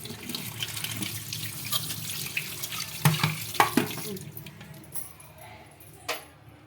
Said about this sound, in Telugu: ఇప్పుడు వాటర్లో కడగదాం ఒకసారి.